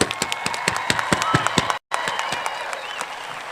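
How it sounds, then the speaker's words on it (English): Crowd applause for graduates at the Canton High School graduation ceremony, steady sustained clapping from many people with sharp individual claps standing out, briefly cut off by a short gap midway. "Let's clap for them one more time."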